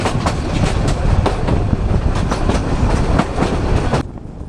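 A train running between Santahar and Burimari in northern Bangladesh rumbles along loudly and close by, its wheels beating a steady clickety-clack rhythm before the noise drops away abruptly near the end.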